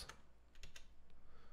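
Typing on a computer keyboard during Arduino coding work: a few sharp, quiet key clicks in a short burst, with no voices.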